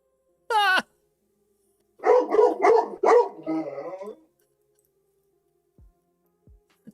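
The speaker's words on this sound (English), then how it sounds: "I've never heard a dog literally say woof woof before" A dog makes a sharp, high yelp, then after a pause gives a quick run of four deep, close barks that end in a drawn-out, woofing tail. Quiet follows, with a couple of faint taps near the end.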